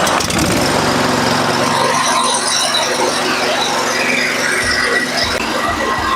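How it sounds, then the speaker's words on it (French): A cold engine on a Warrior series machine is pull-started, a loud rattling mechanical drone with pulsing low thumps toward the end, continuous and close throughout. "le moteur il est toujours froid, donc il va falloir qu'on tire ça"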